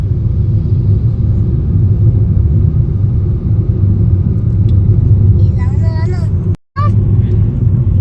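Steady low engine rumble inside a car being driven to refuel with CNG, continuous throughout with a brief dropout near the end and a few faint chirpy sounds over it.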